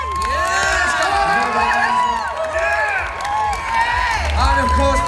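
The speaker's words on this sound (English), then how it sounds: "So give yourselves a huge round of applause." A festival crowd at a gaming event in Ireland applauds and cheers loudly and continuously, with shouts and whoops rising over steady clapping and a voice carrying across the hall.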